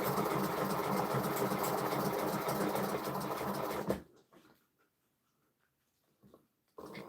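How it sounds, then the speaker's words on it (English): A sewing machine stitches through two folded layers of material with a steady close whirring hum for about four seconds, then stops abruptly, leaving near silence with a few faint handling sounds. "you got to sew through both layers"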